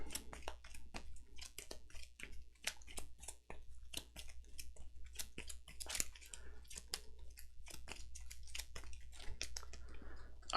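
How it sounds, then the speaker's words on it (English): Cards being shuffled at a Kingdom Death Monster board game session: a quick run of crisp, dry riffles and taps over about ten seconds, close and fairly quiet, with no talking. "Got to shuffle the AI deck"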